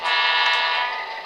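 A Bachmann GP9 HO-scale DCC sound model locomotive sounds its long horn, one brief sustained chord, close and fairly loud with nothing else around it.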